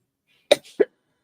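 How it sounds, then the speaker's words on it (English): A person with a cold coughs twice in quick succession, two short sharp bursts close to the mic, with silence around them. "While you cough."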